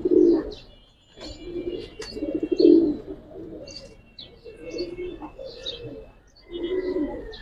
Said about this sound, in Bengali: আমার কবুতর সবগুলা বাসা কবুতর